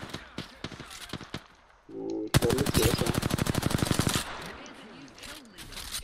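Rapid automatic gunfire in the shooter game Apex Legends: a few scattered shots, then a long sustained burst of closely spaced loud reports that tapers off, with faint voices underneath.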